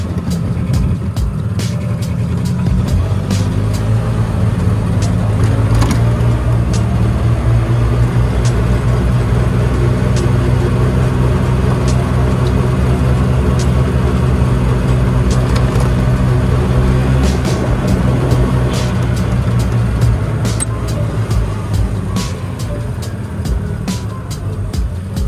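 A custom Broncos golf cart drives along near a golf course, its motor giving a steady, loud low drone for the whole stretch, with scattered clicks and light rattles over it and no clear talking.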